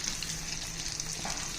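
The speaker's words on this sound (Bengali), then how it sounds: "প্রথম পিঠটা একটু ভালো করে ভেজে হয়ে গেছে।" Hilsa fish frying in hot oil in a pan, a steady, dense sizzle with continuous crackle throughout, close and fairly loud with no talking.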